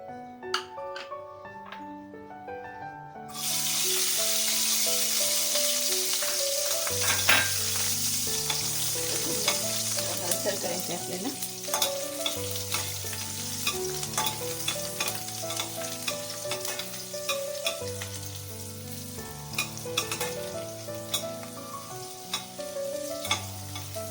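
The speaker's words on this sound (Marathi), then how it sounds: "आता लसूण टाकूया" Garlic sizzling and frying in a pan with cashews for a dhaba-style curry, a dense continuous crackle that swells loudly once the garlic goes in, with occasional stirring clinks over a background of music.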